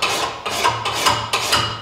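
Close, repeated rasping strokes of a hand file scraping the burr off a Gravely mower blade, four or five short rough passes in a steady back-and-forth rhythm with no talk.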